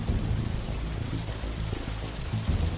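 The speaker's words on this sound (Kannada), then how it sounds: "ತುಂಬಾ ಜೋರಾಗಿ ಮಳೆ ಬಿಡ್ತಿರೋದ್ರಿಂದ ನೀರ್ ಬೇರೆ ಜಾಸ್ತಿ ಹರಿತಿತ್ತು" Heavy rain pours down steadily in a dense, continuous hiss with a deep low rumble underneath, loud and unbroken throughout with no voices.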